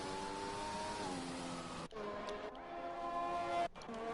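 An F1 car's engine in a racing video game at the Japanese Grand Prix sings steadily through the final corner, a close continuous whine with pitch shifts and two abrupt brief cuts as gears change.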